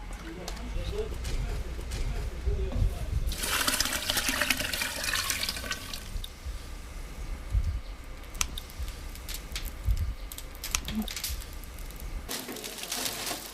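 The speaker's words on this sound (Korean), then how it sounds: "치자를 우려낸 물이 준비되면 솥에 부어 끓일 준비를 한다." Gardenia-steeped dye water pours into a pot for boiling, a rushing, splashing stream that swells partway through and runs steadily, close by, under a narrating voice.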